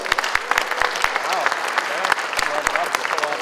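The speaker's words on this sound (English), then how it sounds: "Let's give them a big round of applause." Audience applause at a charity event, a steady dense patter of many hands clapping with sharp individual claps standing out, fairly loud and continuous throughout.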